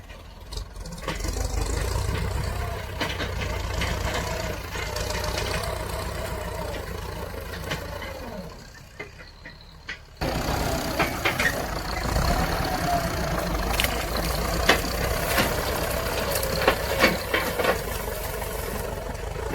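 A tractor engine runs steadily nearby with a low chugging rumble while ploughing old rice straw and weeds in a paddy field, briefly dropping off mid-way before resuming with rattling and clanks.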